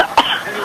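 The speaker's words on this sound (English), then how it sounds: "Are you coughing?" One brief cough sounds close by against a low background hum.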